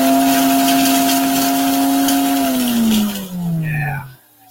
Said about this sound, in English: Spindle mix for the frothiness.